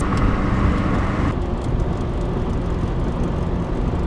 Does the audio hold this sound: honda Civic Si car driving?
yes